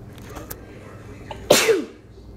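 A single sharp sneeze bursts out at close range after a moment of quiet room noise, loud and brief with a trailing exhale.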